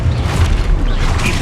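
Loud, booming spell blast in the Hogwarts Legacy video game, a dense low rumble holding steady for over a second.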